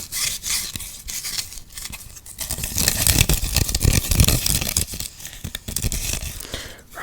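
Close-up brushing and rubbing against something right by the microphone, a steady dry scratchy texture that swells louder in the middle and continues with no talking.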